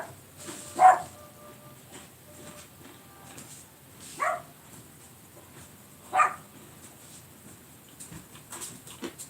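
A dog barks three separate times at a distance, short sharp yaps spaced a few seconds apart over a quiet background.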